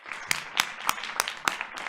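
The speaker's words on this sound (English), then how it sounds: "So please give her a round of applause." Scattered, sparse clapping from a small audience at a Board of Education meeting, a handful of distinct claps at irregular intervals, fairly faint and thin.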